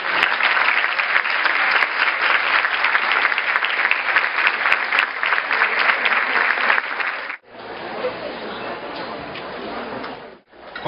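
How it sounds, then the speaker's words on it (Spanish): A conference audience applauds to welcome a professor onstage, loud sustained clapping from a large crowd that carries on for several seconds, dips briefly, then resumes. "les pido un fuerte y caluroso aplauso para recibir al profesor Feldman"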